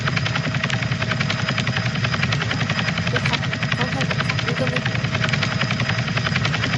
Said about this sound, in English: Now let's jump on the helicopter again.